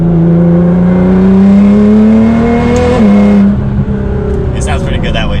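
Nissan GT-R with an anti-lag tune revs its exhaust loudly and close, a steady raspy drone that climbs in pitch, dips sharply, then settles lower as the engine eases off.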